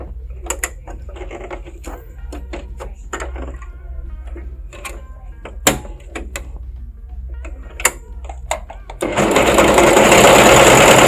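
A Brother CV3550 coverstitch machine runs close and loud near the end after quiet handling clicks and small mechanical taps, its fast steady whirring stitch filling the last couple of seconds.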